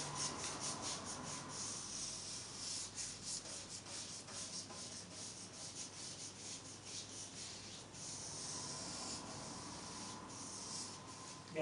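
A 1 inch paintbrush sweeps across a radiator, giving soft, continuous scratchy rubbing strokes with faint bristle flicks. The sound is quiet and close, and no one speaks.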